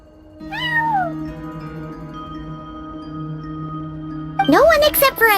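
A cat at a front desk in Genshin Impact gives a rising-and-falling meow, a long sustained tone follows, and then a louder pair of meows comes close together near the end.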